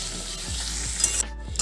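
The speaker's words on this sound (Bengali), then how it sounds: "কিছুক্ষণ নাড়াচাড়া করে নিয়েছি। মশলাগুলোও ভাজা হয়ে গেছে।" Ground spices, turmeric, chilli and cumin powder with salt, sizzle in hot oil in a pan for a bean curry, with repeated scraping strokes of a spoon stirring them through, close and clear.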